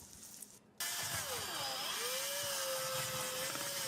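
A power tool whines steadily and loudly after a sudden start, its pitch dipping and then holding level, running in a kitchen during cornbread preparation.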